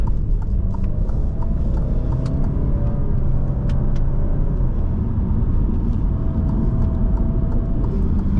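A 2021 Alfa Romeo Giulia Ti on a drive, a loud steady rumble of road and engine noise inside the cabin with scattered small clicks and knocks throughout.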